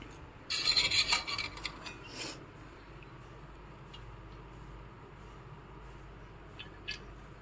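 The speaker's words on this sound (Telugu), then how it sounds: "ఇంకా ఈ ఐరన్లో ఏదైనా ఉందేమో అనేసి నేను ఇంకా ఆయిల్ కూడా వేసి తుడుస్తున్నాను" Oiled cloth wiped across an iron pan, a short burst of harsh rubbing near the start, then faint quiet background with a few small knocks.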